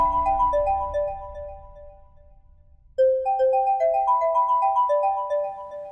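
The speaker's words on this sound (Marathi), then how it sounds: "कोणाचा फोन आहे ते पण कळना" A mobile phone ringtone plays a bright repeating melodic chime pattern, pausing briefly before resuming louder, ringing clearly on its own indoors without any voices.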